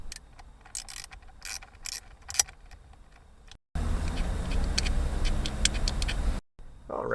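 A ratchet wrench clicks in quick bursts while loosening a bolt on a Galant VR-4 shifter assembly, then a denser, louder ratcheting run follows, close up with no talk.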